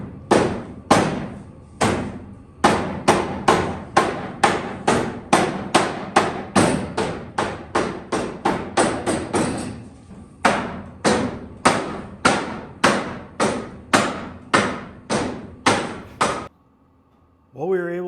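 Sharp hammer blows ring out against bolts on the wooden bed of a 1952 Dodge half-ton truck, around thirty close, loud strikes in a steady rhythm, with a short pause partway and quiet at the end.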